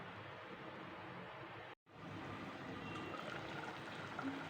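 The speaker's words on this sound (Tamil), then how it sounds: "மசாலா நல்லா கொதிச்சிருச்சு." A steady, dense bubbling and sizzling of masala gravy for crab boiling in a pan, continuous and close, with a brief cut partway through.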